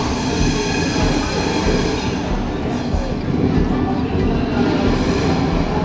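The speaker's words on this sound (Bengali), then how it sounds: "আমাদের ট্রেন ছেড়ে দিয়েছে।" A passenger train pulls out and runs on, its steady rumble and rail noise continuous and close, as heard from on board.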